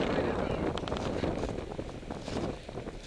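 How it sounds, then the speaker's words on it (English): Steady wind buffeting a microphone on exposed cliffs, a broad continuous rush with gusty swells that stays loud and close throughout. "There's a reasonable amount of wind on the cliffs."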